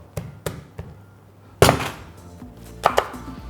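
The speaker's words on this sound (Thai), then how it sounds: "แล้วก็หั่นเป็นชิ้นสวยงามนะครับ" A pumpkin is chopped into pieces with a knife on a cutting board, giving several sharp, close knocks: three light taps, a heavy thud, then two more firm chops.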